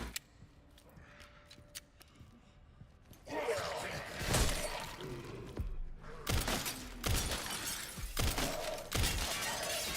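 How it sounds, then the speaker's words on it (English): In Resident Evil 9, glass shatters beneath an enemy after being shot out: loud, crashing breaks arrive in several bursts mixed with gunfire over a low game ambience, strongest in the second half. "shooting the glass out from under an enemy will cause them to fall through"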